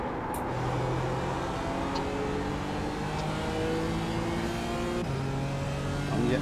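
Race car engines in the iRacing sim at Barcelona drone steadily as the player's car runs with a faster car closing from behind, pitch climbing and shifting through gears, with occasional faint talk beneath.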